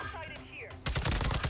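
Rapid automatic gunfire from a hard-hitting gun in the Warzone video game on Ashika Island bursts in loud and close after a brief stretch of game sounds, a dense run of sharp shots.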